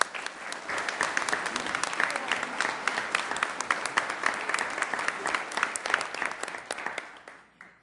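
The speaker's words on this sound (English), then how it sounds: "Let's give them a round of applause, please." Applause at a city council meeting in a chamber, a room of people clapping steadily with crisp individual claps, holding even and then tapering off in the final second.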